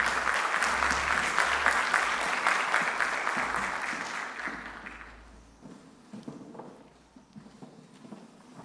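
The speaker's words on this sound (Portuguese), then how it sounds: "Uma salva de palmas" An audience at a franchise business forum in Curitiba applauds speakers invited onto the stage, a broad, even burst of clapping that holds strongly for about five seconds and then fades away to near quiet.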